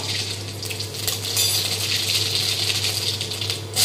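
Black mustard seeds hitting hot oil in a pan, giving a steady, dense crackle and sizzle that stays close and loud throughout, with a low hum underneath and no voices.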